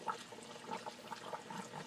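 Water flowing through an aquarium sump filter with submerged ceramic rings and sponges, a quiet, close trickling and gurgling that burbles steadily for a couple of seconds.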